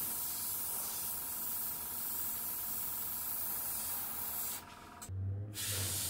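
A cheap Chinese knock-off of an Iwata .3mm pistol-grip airbrush sprays paint with a steady, close, airy hiss that runs for several seconds, then cuts out briefly before a short burst resumes.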